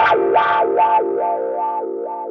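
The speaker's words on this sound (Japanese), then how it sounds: "で、これペダルワウ。" Electric guitar through the pedal wah of a Zoom G1X Four multi-effects pedal holds a sustained distorted tone swept rhythmically open and closed, about six even wah cycles, close and steady, fading slightly toward the end.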